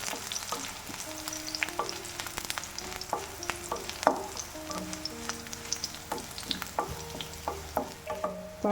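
Green chilies fry in a pan over a low flame for a Kerala-style ginger pachadi, giving a soft continuous sizzle with frequent light scraping and stirring clinks from a utensil, close and gentle with no talking.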